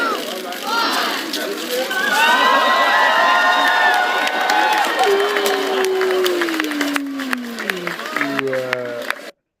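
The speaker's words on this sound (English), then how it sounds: "pay attention to the cheers." A sports crowd cheers loudly and continuously, a dense roar with rising shouts and a long falling whoop near the end, steady and close throughout with voices mixed in.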